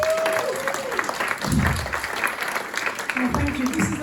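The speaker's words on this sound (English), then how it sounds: "Can you please give them a round of applause" Audience applause at a blockchain presentation event, a steady wash of clapping from a crowd, with a voice speaking briefly over it.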